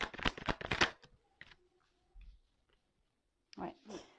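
Tarot cards gathered into a pile and shuffled, a quick burst of riffling flutter up front followed by a few soft taps and brief card rustles, with scattered bits of talk.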